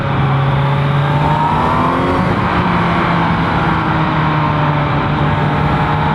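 A 2018 Kawasaki Z900 motorcycle engine runs loud and close, holding a steady throaty idle-to-mid rev with a brief rise and fall in pitch near the middle.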